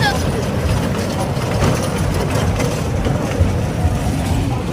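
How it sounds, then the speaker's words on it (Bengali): Kids' ride train running at a Gazipur small and cottage industries fair, giving a steady rumbling, rattling drone with fair crowd noise and talking mixed in throughout. "ভাই দেখেন যে ট্রেন যাত্রী নাই কিন্তু চালক আছে"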